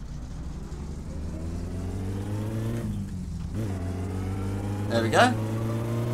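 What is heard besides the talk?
car driving in My Summer Car video game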